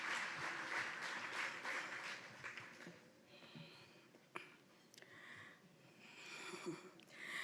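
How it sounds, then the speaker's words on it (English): Audience applause for a woman being introduced at an evening school event in Africa, steady broadband clapping through the first seconds that thins into scattered claps and murmurs, fairly faint and distant. "So give a warm clap for Sister Betty."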